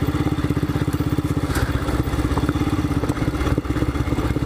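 A Royal Enfield Scram 411 motorcycle lugs along in second gear at very low revs over rocky, stony ground. The single-cylinder engine throbs steadily up close while loose stones clatter and thud under the tyres.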